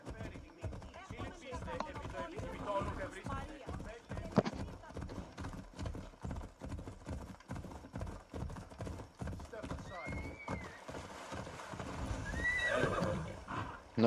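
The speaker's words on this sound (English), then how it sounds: "I keep forgetting that I have a horse." A horse in the video game Assassin's Creed Odyssey trots with steady rhythmic clip-clop hooves, punctuated by a couple of whinnies later on, against quiet game ambience.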